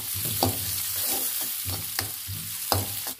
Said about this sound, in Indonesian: Ini ikannya mau saya tumis